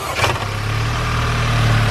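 Audi A4 engine cranking and catching after a cold air intake install, then settling into a steady close idle, alone without talk.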